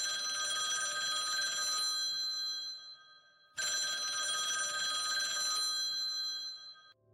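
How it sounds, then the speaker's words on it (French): Telephone bell ringing in two long bursts separated by a short pause, bright and clear with a steady electronic tone, no voices. "J'allais appeler tante Mimi."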